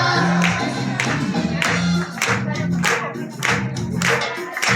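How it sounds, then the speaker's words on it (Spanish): Audience at a school graduation performance clapping along to a live song, sharp rhythmic claps in a steady beat with singing and music underneath. "¡Y esas palmas!"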